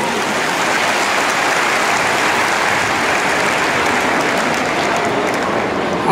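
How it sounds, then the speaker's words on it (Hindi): A large crowd at a Delhi government meeting with resident welfare associations gives sustained, dense applause for the women attending, a steady wash of clapping that stays loud and even throughout. "सबके लिए जोरदार ताली बजा दीजिए"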